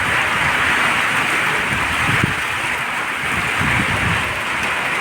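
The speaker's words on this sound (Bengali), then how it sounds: "প্রচণ্ড বৃষ্টিতে টইটম্বর অবস্থা আমার ছাদে" Heavy rain hammers a flooded rooftop during a stormy downpour, a constant loud wash of water with a few heavier splashing surges, and nobody speaking.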